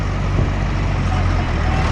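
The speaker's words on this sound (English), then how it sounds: "Tractors ry heen en weer hierso" A tractor engine drones steadily at a boat launch site in South Africa where tractors shuttle ski boats back and forth, a loud, continuous low rumble with no breaks.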